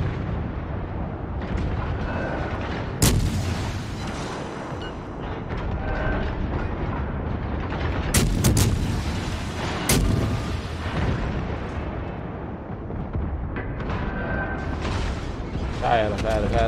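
Naval gunfire and explosions rumble through World of Warships on PS4, with sharp cannon blasts and deep booms over a continuous battle roar, while someone talks over the action.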